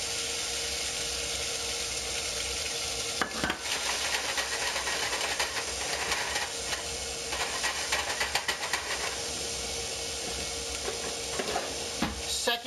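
Ham fries in hot oil with a loud, constant hiss and crackle, broken by scraping stirs and clanks partway through.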